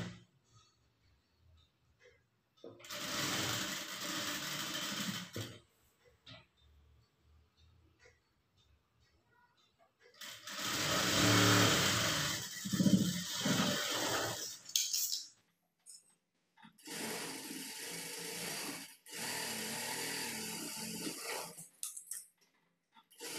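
A sewing machine runs in three separate bursts while stitching a plain blouse seam, each burst a steady close whir with quiet pauses between.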